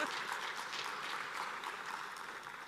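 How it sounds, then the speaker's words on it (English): Applause from a conference audience welcoming a guest at a business forum on African trade and automotive investment, a steady faint patter of many hands clapping throughout, distant and even with no voices over it. "Please, a round of applause."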